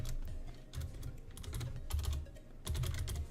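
Computer keyboard typing in quick bursts of clicking keystrokes, close and moderately loud, with brief pauses between runs and no voices.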